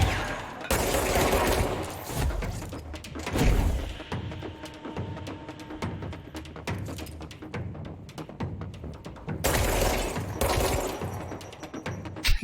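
Gunfire in the video game Control, AWE DLC: loud bursts of rapid automatic fire at the start and again near the end, with scattered single shots and impacts between them, no talking.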